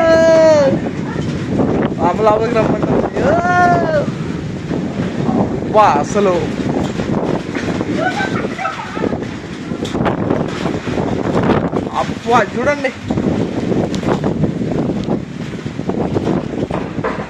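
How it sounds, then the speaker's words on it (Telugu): Strong, gusty wind roars steadily over the microphone during a storm with lightning, trees swaying, with a person talking excitedly through most of it. "చిన్న గాలి కాదు"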